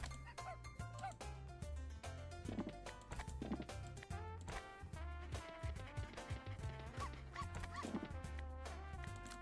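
Cartoonish dog barks and yips ring out over busy, bouncy slot game music from Dog House, with chimes and clip-clop effects, fairly quiet overall.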